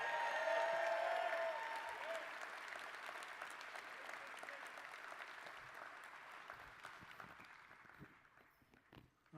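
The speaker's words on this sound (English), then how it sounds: "Let's give Forrest another round of applause." Audience applause at an award ceremony honoring a recipient, a dense wash of clapping from a large crowd that starts strong and gradually tapers off.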